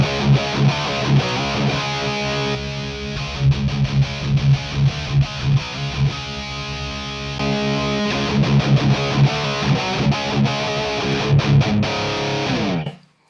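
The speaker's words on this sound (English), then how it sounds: "let me go back and forth between the distortion and preamp" Electric guitar played through a Lichtlaerm Audio Ragnarök preamp and distortion pedals, heavy distorted chords and chugging riffs alternating in sections with sustained ringing notes, loud and close before cutting off abruptly at the end.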